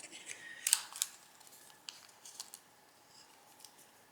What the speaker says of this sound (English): you're going to tuck both of these inside, so just kind of fold these in